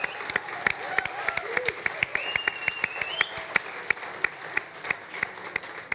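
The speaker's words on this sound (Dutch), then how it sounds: "Geef iedereen even een daverend applaus." Audience applause in a Dutch television studio broadcast, a steady patter of many hands clapping with sharp individual claps standing out throughout, fairly near and continuous with no talk over it.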